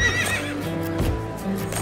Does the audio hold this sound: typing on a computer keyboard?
no